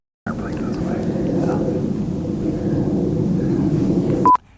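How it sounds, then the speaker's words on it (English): An airplane passing overhead gives a steady low rumble that swells and holds for several seconds before cutting off abruptly. "Wait till the airplane goes away."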